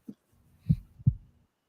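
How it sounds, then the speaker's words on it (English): Two soft, low thumps of a heartbeat, about a third of a second apart, preceded by a faint knock, isolated in near silence. "Heartbeat."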